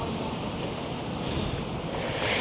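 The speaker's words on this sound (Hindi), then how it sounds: "अभी काफ़ी ठंडी हवा चल रही है" Cold, icy winter wind blows steadily outdoors in Toronto, a continuous broadband rush of gusting air buffeting the microphone, with a slightly stronger gust toward the end and no voices.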